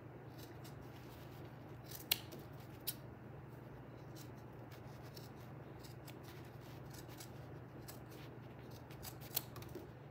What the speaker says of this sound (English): You're just gonna wanna cut everywhere. And of course, be careful whilst cutting.